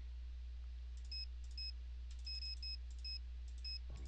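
An alarm clock in the Nancy Drew video game beeps in short repeated electronic bursts, in pairs and small clusters, over a steady low hum, with no one talking.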